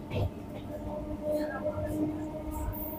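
Goghat Local 37375 UP rolls into Mayapur station on a rural line, heard from inside as a low, steady rumble with faint clanks. Muffled voices murmur underneath.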